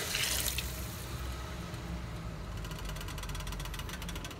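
Soy sauce mixed with water is poured into a cooking pot in a home kitchen, a steady close splashing and trickling stream that runs unbroken for several seconds.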